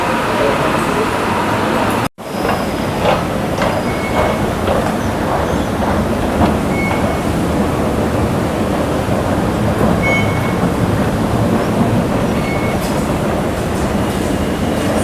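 A Bangkok BTS Skytrain rolls along at an elevated platform, a loud continuous rumble with faint clicks of the wheels and a brief drop partway through, a voice talking under the noise.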